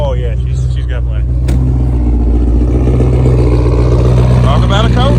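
A classic muscle car built from spare parts idles after a cold start, its engine a loud, steady low rumble with slight unevenness, while voices talk over it nearby.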